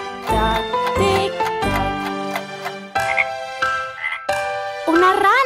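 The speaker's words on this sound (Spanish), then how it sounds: "Una rana." A cartoonish frog croak in a Spanish children's nursery song, a series of tonal, ringing croaks in short bursts over bright musical backing, loud and close.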